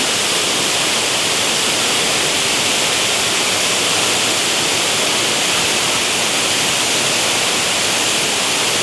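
The Sirimane waterfall near Sringeri, Karnataka, roars in a dense, unbroken hiss of heavy rushing water, loud and steady throughout, with no voices.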